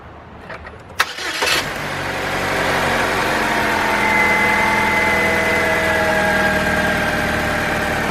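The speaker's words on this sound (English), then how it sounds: "we're gonna start this vehicle up and check it out and see how it runs" A car engine with a newly replaced timing chain, from a Chevy Malibu, Cobalt, Grand Am, Sunfire or Saturn L family, cranks with a few quick clicks, catches and settles into a steady, smooth idle hum.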